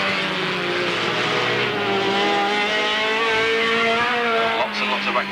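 Race cars lap the track at an Alwalton meeting, engines droning loudly and continuously as they pass along the back straight, with a faint commentator's voice running beneath the noise.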